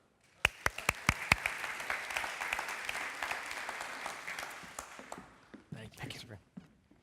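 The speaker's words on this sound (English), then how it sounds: "can we please give a warm round of applause for Trevor Byrne?" Audience applause at an automotive industry event, opening with a few sharp individual claps that swell into a full steady round, then thin out into scattered claps and fade near the end.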